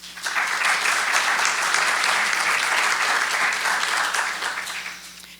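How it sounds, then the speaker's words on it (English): An audience at a Chamber of Commerce candidates forum applauds steadily for several seconds, a dense, even wash of clapping that tapers off at the end. "So let's give them a round of applause."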